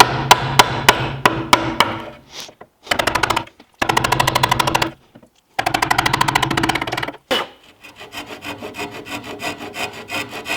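Chisel work on wood while shaping a homemade high-performance bow: a quick series of sharp strikes at the start, then bursts of rapid rattling or rasping cuts separated by short pauses, close and fairly loud, with no talking.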